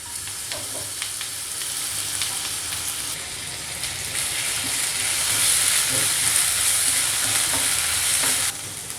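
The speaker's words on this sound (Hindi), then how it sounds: "तेल जब गरम हो जाएगा, हम इसमें 1 टेबलस्पून अदरक और लहसुन डालेंगे" Finely chopped ginger and garlic frying in about a tablespoon of hot oil in a pan: a continuous close sizzle with occasional stirring scrapes, growing brighter and louder midway, then dropping off sharply near the end.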